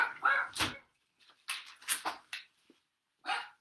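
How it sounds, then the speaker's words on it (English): A dog barking at pigeons indoors, several sharp close barks in irregular bursts separated by silent gaps, loud and alone without talk. "She barks at the pigeons."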